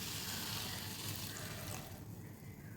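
About a quarter tumbler of water is poured into a pan of cooking snake gourd with boiled chana dal, a steady rushing, splashing pour close by that thins out and fades near the end.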